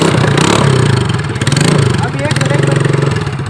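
A motorcycle engine is started outdoors in a village and runs loud and close with rhythmic throbbing and surging revs, while people talk over it.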